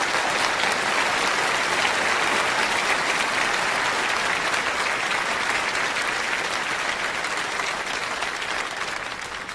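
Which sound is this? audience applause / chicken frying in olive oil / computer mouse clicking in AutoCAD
audience applause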